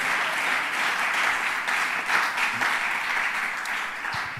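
A church congregation claps together in sustained, dense applause for several seconds, filling the room with an even wash of hand claps.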